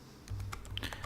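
Quick run of keystrokes on a computer keyboard, soft, close, irregular clicks over about a second while entering a wedding date into a web page editor.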